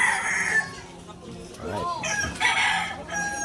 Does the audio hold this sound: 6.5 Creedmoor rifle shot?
no